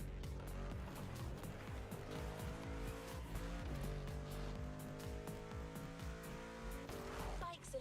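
Racing-game car engines whine and tires squeal through skidding turns in The Crew Motorfest, steady engine harmonics rising and falling with repeated screeching skids, loud and continuous, with a voice talking over it.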